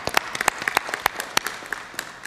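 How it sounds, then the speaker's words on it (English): Scattered hand claps from a small crowd at a city council meeting, brief and uneven, fading in and out over a couple of seconds. "Let's give them a round of applause."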